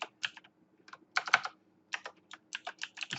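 Fingers tap out text on a computer keyboard in quick, uneven bursts of close, crisp clicks with short pauses between words, and no talk.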